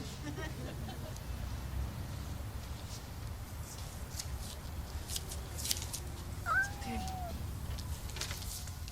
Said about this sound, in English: This is a cat, okay?